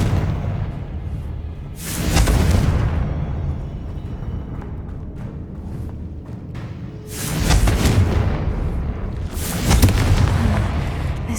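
Confringo and Bombarda spell explosions in the video game Hogwarts Legacy, three loud booming blasts, each with a long rumbling tail, spaced several seconds apart with no talking over them.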